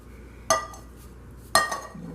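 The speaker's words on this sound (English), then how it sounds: "So I'm going to dump it into my bowl." Drained canned pink salmon is dumped into a bowl for salmon cakes. Two sharp clinking knocks of the can against the bowl, about a second apart, are close and clear over a quiet background with no talking.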